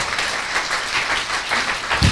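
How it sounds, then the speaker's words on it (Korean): A studio audience gives a brief burst of steady applause, a dense patter of many hands clapping together. "박수 한번 치고 넘어가시죠."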